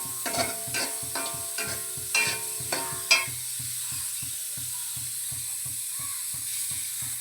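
Coconut pieces and onion frying in a pan for Kerala-style pork fry, a bright sizzle with a quick run of spoon scrapes early on, then a steady rhythmic low tapping under the frying.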